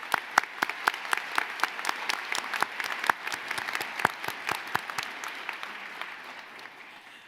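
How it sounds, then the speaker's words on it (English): Applause at a university graduate division commencement ceremony, with crisp, distinct hand claps in a fairly regular rhythm from a modest crowd, loud at first and thinning out toward the end. "And now, let's give them applause."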